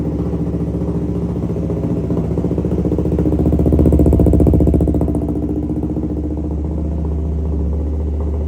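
A 2015 Yamaha R3 idles with a deep, loud, throaty rumble from an aftermarket SC exhaust, swelling briefly louder midway before settling back to a steady burble.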